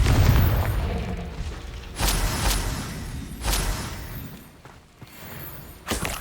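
Confringo explosion spells burst in the video game Hogwarts Legacy during a wand duel, a series of heavy booms with crackling, shattering tails spaced a second or two apart over a rumbling game soundscape.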